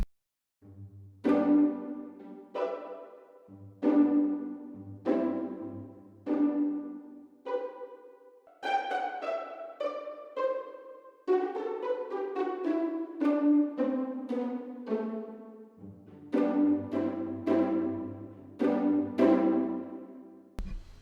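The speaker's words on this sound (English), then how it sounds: "That the other one that I like is the pizzicato" Plucked pizzicato strings from a Native Instruments sample library, playing a steady run of short, bright plucks in a melodic phrase that rises and falls, clear and alone.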